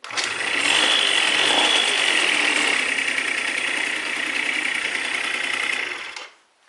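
A small Yamaha moped engine, started cold, runs at a fast, even idle close by for several seconds, then cuts off abruptly.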